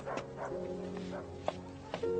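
A dog gives a few short barks and yips, faint and spaced out over a low background.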